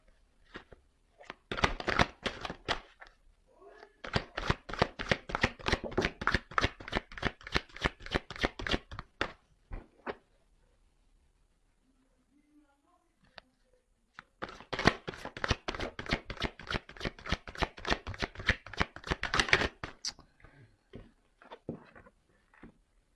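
Tarot cards being shuffled and cut, with rapid riffling bursts in two long runs separated by a quiet pause and a few soft taps, close and crisp.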